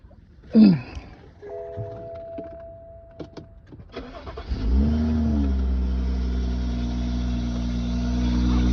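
A BMW N55 engine cold-starts with a brief crank, then settles into a steady, loud, close idle, with a faint electric whine and light clicks before the start.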